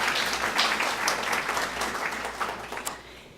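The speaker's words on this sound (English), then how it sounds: "everyone give them a round of applause." An audience at a teen pregnancy awards event gives a round of applause, close dense clapping that holds steady, then thins and fades toward the end.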